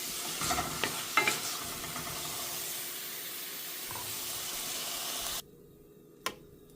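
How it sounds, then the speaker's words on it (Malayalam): Spinach and beaten egg mixture stirred and fried in a pan for an omelette, a steady broadband sizzle with a few scraping stirs near the start, cutting off abruptly near the end with one brief clink after. "ഞാനിനി ഈ വെന്ത മിക്സ് നമ്മളിവിടെ അടിച്ചു വെച്ചിരിക്കുന്ന മുട്ടയിലോട്ട് ചേർത്ത് ഇട്ടൊന്ന് ഇളക്കിയിട്ട് വീണ്ടും നമുക്ക് ഇതിനകത്തിട്ടൊന്ന് പൊരിച്ചെടുക്കാം"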